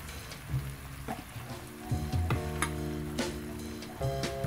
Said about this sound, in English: now you can see we need to stir well to mix all ingredients with beef